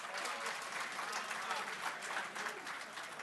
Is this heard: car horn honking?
no